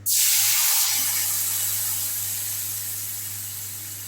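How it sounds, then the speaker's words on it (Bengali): Mustard paste dropped into hot oil bursts into a loud sizzle that slowly settles into a steady, gradually fading hiss, with a low hum underneath. "এটা আমি তেলের উপরে পেস্টটা দিয়ে দিলাম, যেটা আমি সর্ষের পেস্ট বানিয়ে রেখেছিলাম।"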